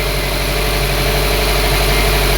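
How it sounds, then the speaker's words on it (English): A 2007 Subaru Forester engine idling with the coolant cap off during a head gasket check, a loud, steady, even hum and rumble filling the whole span close by. "So the engine is running and I've left the cap off"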